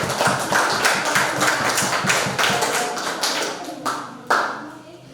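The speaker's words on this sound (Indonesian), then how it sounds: "Oke, berikan tepuk tangan." A class of students claps together in a dense run of close, fast claps that thin out toward the end, with a couple of louder slaps near the finish.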